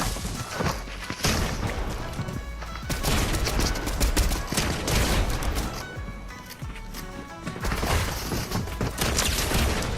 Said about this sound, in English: Oh, the drum shotgun.